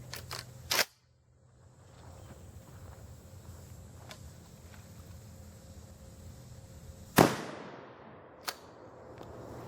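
A Federal 12 gauge 00 buckshot shotgun fires once at a target 10 feet away: a loud, close blast with a ringing decay, after an earlier sharp crack and quiet outdoor background.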